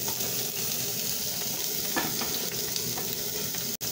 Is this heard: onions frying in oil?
yes